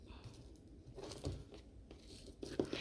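Aloe vera leaf skin being peeled back by hand, giving soft, irregular tearing and crinkling bursts, close and fairly quiet, with a louder crackle near the end and no talk.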